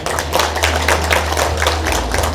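An audience at a regional expert panel discussion claps for a panel member as they are introduced. The claps are sparse and separate over a low steady hum from the hall's sound system.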